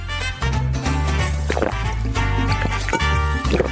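Water being drunk to wash down hot peppers during a food-eating challenge: close gulping and sloshing liquid sounds, continuous and fairly loud, with a low droning background throughout.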